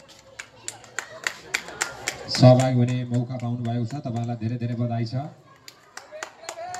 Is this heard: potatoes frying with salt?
no